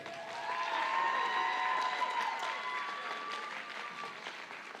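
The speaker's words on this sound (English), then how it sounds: "How about a round of applause for all these students?" An audience at a school percussion concert claps for the student performers, a full, sustained wave of applause that swells and then slowly thins, with sustained ringing tones lingering underneath.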